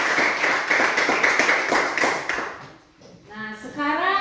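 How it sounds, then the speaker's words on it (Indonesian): A classroom group claps hands together in a brisk, moderately loud burst for about two and a half seconds, then it fades and a voice begins speaking. "tepuk tangan."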